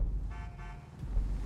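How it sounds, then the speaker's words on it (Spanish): Weak-sounding car horn in GTA V Online, a short, thin toot of about half a second heard up close against low game and room noise, with no talk. "Qué claxon más pocho tiene este cabrón?"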